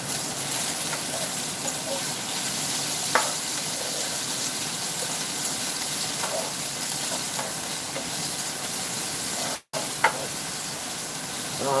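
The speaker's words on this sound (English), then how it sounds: "I love the smell of bacon frying." Bacon frying on a sheet pan in a home kitchen, a steady close hiss and sizzle running throughout with small pops and crackles, no talking.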